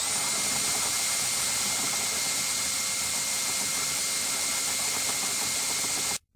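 A Bosch installation driver runs at its lowest working speed, giving a steady, loud, continuous whine that holds level for about six seconds and then cuts off abruptly.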